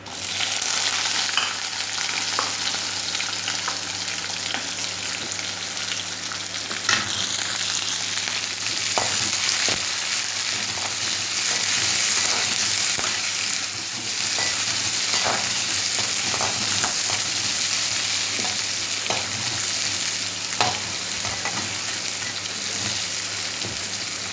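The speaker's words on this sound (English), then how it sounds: "It should cook only slightly, not so deep fried." Chopped onion and green chilies frying in a pan give a loud, continuous close-up sizzle, broken now and then by soft scrapes and taps of stirring, with no voices.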